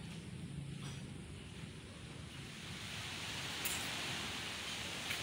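Sea waves wash onto a beach in Samar at high tide, a steady broadband surf roar that slowly grows louder, with wind buffeting the microphone and no voices.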